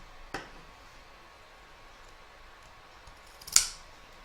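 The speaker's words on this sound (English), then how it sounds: "We're now going to clip the corners so that when we turn this, they all sit nice and neatly" Fabric scissors snip the corners of a sewn crazy-patch evening bag, two crisp close cuts spaced a few seconds apart, each a sharp short crunch over near silence.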